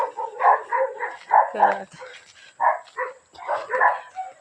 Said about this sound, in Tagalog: Nandito na sa may mga tumatahol na yung mga alaga.